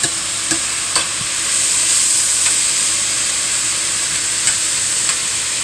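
Mushrooms and onions fry in a full pan with a steady, close sizzling hiss, punctuated by a few soft stirring clicks.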